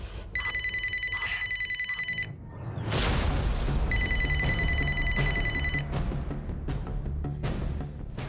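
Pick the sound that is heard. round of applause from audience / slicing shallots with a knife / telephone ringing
telephone ringing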